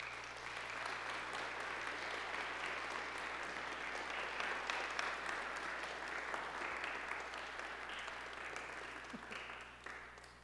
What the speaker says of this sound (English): I think you should welcome her with a round of applause.